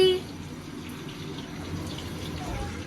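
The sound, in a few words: water being filled from a tap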